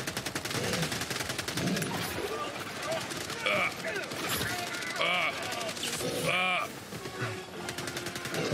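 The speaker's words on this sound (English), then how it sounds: "I shoot him in the ass" Rapid automatic gunfire from the video game Helldivers 2, loud and continuous bursts with a few ringing metallic shots layered in, under voices talking throughout.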